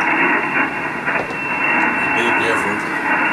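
Amateur radio reception through an end-fed wire antenna, giving band-limited hiss and static with a faint voice buried in the noise.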